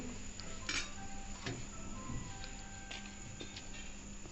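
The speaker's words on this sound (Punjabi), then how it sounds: "ਹੁਣ ਆਪਾਂ ਪਾਵਾਂਗੇ ਇਹਦੇ ਵਿੱਚ ਗੋਭੀ" Cauliflower florets dropped into a bowl of mixed spices and gram flour batter, with quiet clinks of a metal bowl and soft stirring knocks, close and fairly faint, no voices.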